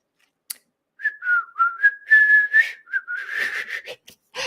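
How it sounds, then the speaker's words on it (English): A person whistling a short, wavering melody of several breathy notes that slide up and down, close and clear, preceded by a single brief click. "can you whistle?"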